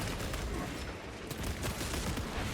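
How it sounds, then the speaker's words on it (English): Rapid gunfire from a player's weapon in a shooter game, dense bursts of close shots packed together over a noisy battle background. "So I'll shoot my gun."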